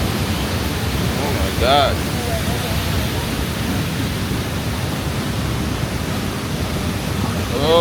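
Broad, steady roar of heavy water pouring down Ouzoud Waterfalls, constant and loud from start to finish, with a short excited exclamation and another voice briefly rising above the rush.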